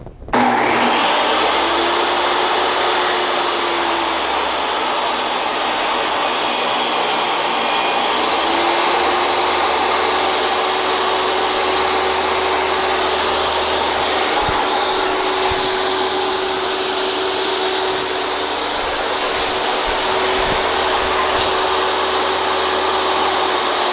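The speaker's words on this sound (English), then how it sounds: "I got the table saw already set up for 7 1/4, so let's get some up." A table saw runs and cuts wood for an angled foot stool, a loud, steady motor whine with a rising tone that holds near and constant from start to finish, with no talking.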